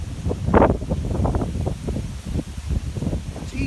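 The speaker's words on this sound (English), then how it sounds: "In case you can't tell, it's very windy outside." Strong wind outside roars and gusts against the microphone in uneven, rustling surges, loud and close throughout.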